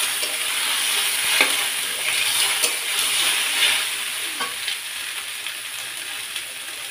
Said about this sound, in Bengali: হলুদ দিয়ে একটু নেড়ে চেড়ে নিব